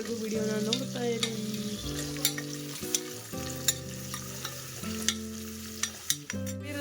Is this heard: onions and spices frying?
yes